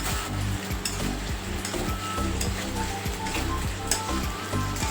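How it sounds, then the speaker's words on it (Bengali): Masala sizzles steadily in a pan while being stir-fried with sugar and ground black pepper for a Mayapur ISKCON temple bhog dish, with a spoon scraping and clicking through it in a loose repeating rhythm, close and continuous. "আমি মশলাটা কষাতে কষাতে এর মধ্যে দিয়ে দিচ্ছি চিনি আর"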